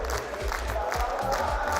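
A large arena crowd at the RLCS Copenhagen Major Rocket League event roars and cheers in a steady, dense wash of noise, distant and sustained without clear breaks.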